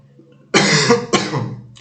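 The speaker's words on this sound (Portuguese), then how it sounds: "Tô tossindo pra caramba." A person coughs twice in quick succession, close and loud, two harsh bursts after a brief quiet moment.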